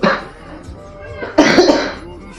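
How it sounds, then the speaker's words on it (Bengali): A woman coughs close to the microphone, with a short harsh cough at the start and a louder, longer rough coughing burst about halfway through, with some throat noise in between. "সারাদিন কন্টিনিউ কাশি হয়, কথা বলতে পারছি না বেশি এখন, কারণ বেশি কথা বললে আবার কাশি হচ্ছে।"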